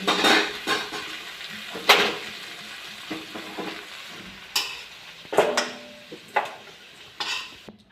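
Fish-head chorchori fries in oil, with no water added, in an old wok, a soft sizzle broken by repeated scraping and clanking strokes of a spatula against the pan at an uneven rhythm.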